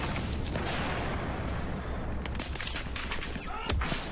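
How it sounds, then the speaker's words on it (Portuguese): Rapid gunfire from the video game Battlefield 4 on a flooded map, a dense fusillade of shots crackling continuously, with a louder burst near the end. "tô levando tiro, não sei como."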